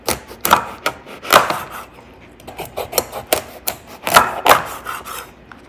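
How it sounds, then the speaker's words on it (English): A knife chops dried salted koobi fish on a board in quick, uneven strokes with a scraping, rasping edge, close and loud with no talking. "I'm going to start off by cutting up my Koobi"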